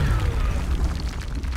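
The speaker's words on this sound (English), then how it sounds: "Oh, frag grenade." A frag grenade explodes in the video game XCOM: Enemy Unknown, a loud, deep rumbling boom that fills the whole moment without any speech over it.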